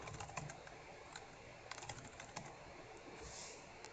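Typing on a computer keyboard while entering table data in a database tool, a quiet, irregular patter of key clicks against a faint room background with no talking.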